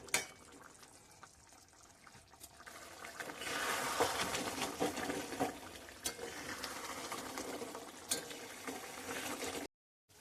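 Fish curry (niheri macher jhal) simmering in a pan with its own released water as it is stirred to dry off, giving a steady bubbling, wet sizzle with scraping stir sounds that swell in the middle, close and moderately loud, with no talk.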